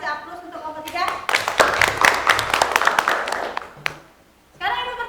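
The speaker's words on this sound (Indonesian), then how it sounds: "Bagus ya, kita kasih aplaus untuk kelompok 3." A classroom gives applause for group 3, a burst of many hands clapping close by that lasts a few seconds and then stops, with a teacher's voice before and after.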